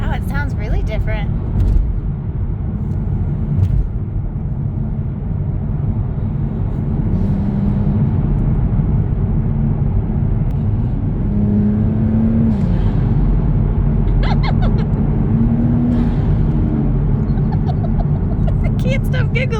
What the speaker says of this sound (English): you can definitely hear the turbo A lot more. when you're not in sport mode.